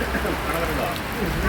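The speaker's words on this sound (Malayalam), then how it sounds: "ഭയങ്കര മഴയാണ്" Heavy rain falls steadily on surfaces at a riverside near Malayattoor, making a dense continuous patter close by with a faint voice murmuring underneath.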